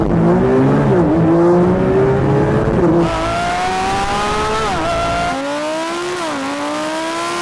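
Lamborghini Huracán and Porsche 911 GT3 RS launching side by side in a drag race, one on off-road tyres: loud, close engine roar climbing through rapid gear changes, tyres squealing, with no talk over it.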